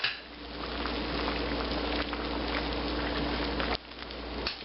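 A pot of vegetable beef soup at a rolling boil gives off a steady, dense bubbling hiss, close and even, dipping briefly near the end.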